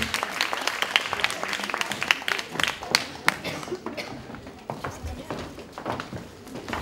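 Audience applauding at a Jean Claude Biguine event: dense, uneven clapping from many hands that lasts about seven seconds, gradually thinning, with voices murmuring underneath.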